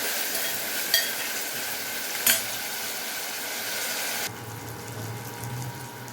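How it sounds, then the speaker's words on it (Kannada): Tomato drops into hot tempering for sambar and sizzles with a loud, steady hiss, broken by two sharp clinks of a spoon before the sizzle suddenly drops to a quieter, lower simmer. "ಇವಾಗ ಟೊಮೊಟೊ ಹಾಕ್ತಾಯಿದ್ದೀನಿ ನೋಡಿ."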